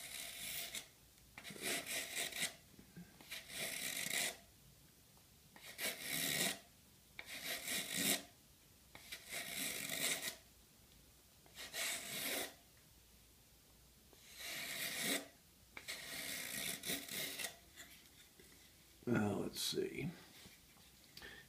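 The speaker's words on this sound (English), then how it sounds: "So we're going to do more planing up here than we will down here." A hand plane shaves the leading edge of a wooden rudder fin in repeated rasping strokes, about a dozen evenly spaced passes close up, with a voice speaking quietly near the end.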